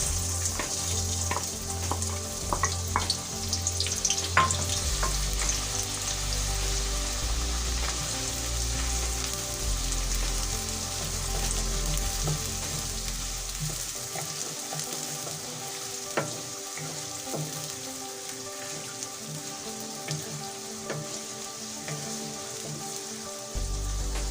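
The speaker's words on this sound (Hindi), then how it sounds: "घी गरम हो चुका है। अब हम इसमें प्याज डालेंगे।" Chopped onions fry in hot ghee for a chicken karahi, a steady bright sizzle with occasional stirring clicks and scrapes, close and fairly loud, running throughout with no talking.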